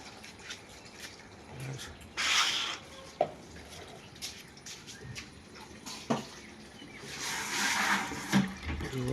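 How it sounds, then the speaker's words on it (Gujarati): Running water splashing and hissing into a container, with bursts that swell and fade and a few knocks and clatters nearby. "પાણી ભરાઈ રહ્યું છે"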